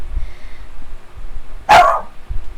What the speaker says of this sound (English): My dog wanted to say something.